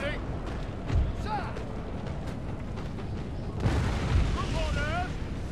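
Cannons fire across a Napoleonic battlefield in the Napoleon: Total War strategy game, with low booms at intervals over a continuous roar of battle noise, as a voice talks over it.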